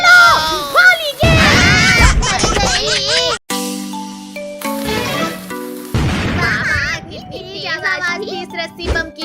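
A cartoon rope bomb firecracker bursts with loud booming pops amid excited children's voices and animated chatter, with several sharp blasts across the scene at Diwali.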